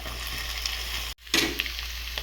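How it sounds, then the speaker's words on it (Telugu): Dried fish fries in a pan of hot oil for a brinjal curry, giving a steady, close crackling sizzle that cuts out for a moment and then bursts back louder, with small pops as it cooks. "మెత్తాళ్ళు అయితే ఇలా బాగా వేగేయండి"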